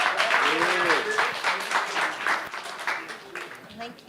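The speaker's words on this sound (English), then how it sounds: "Can we give Naledi a huge round of applause" A conference audience claps for a speaker named Naledi, steady applause lasting a few seconds while a voice carries on over it.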